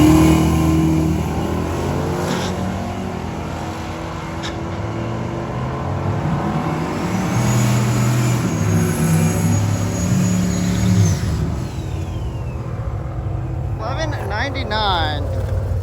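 Drag race car making a pass during a street-car drag racing event, a loud sustained engine roar building and holding for several seconds close by, with crowd talk and ambient noise around it.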